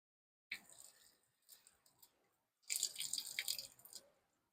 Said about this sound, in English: let's go ahead and pour some of this water out of here.